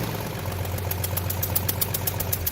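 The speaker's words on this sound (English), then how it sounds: "I started the engine" A car engine runs at a steady idle with a rhythmic knocking pulse and mechanical vibration, close and continuous throughout, during a compression check.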